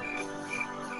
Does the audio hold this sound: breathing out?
no